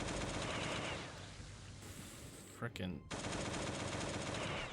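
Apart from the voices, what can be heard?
AK assault rifle gunfire in Last Day on Earth video game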